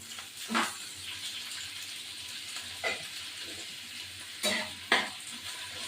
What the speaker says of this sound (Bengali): আলু আর পেঁয়াজগুলো দিয়ে দেবো।